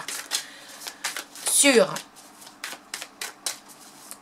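Tarot cards are shuffled and laid out, giving a brisk riffle followed by a run of soft, rhythmic snaps and slaps as cards land, with someone talking throughout.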